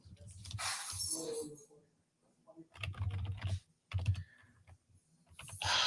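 Rapid clicking of fingers typing on a computer keyboard, in bursts with pauses, close and fairly loud, with a person talking in between.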